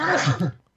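One short, sharp sneeze bursts out close to the microphone and cuts off within about half a second, with no talk around it.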